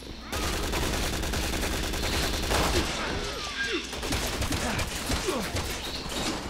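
Dense gunfire in the Resident Evil 6 video game: rapid overlapping shots and bursts run continuously throughout, loud and close, with no pause.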